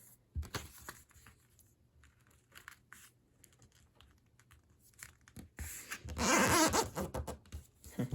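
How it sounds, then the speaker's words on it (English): A paper strip folded along a crease for origami makes soft crinkles and sharp crackling rustles up close, sparse at first and then a louder dense burst near the end. "you want to fold it down along that crease"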